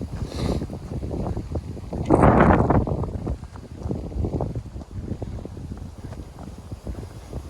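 Gusty wind buffeting a microphone outdoors at Elephant Rock State Park, low rumbling blasts that swell and fade, with one strong gust partway through and a faint voice briefly under the noise.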